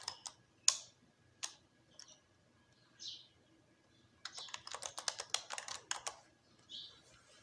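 Someone types an email address on a computer keyboard, starting with a few scattered key taps and then a quick, close run of clicks, with no one talking.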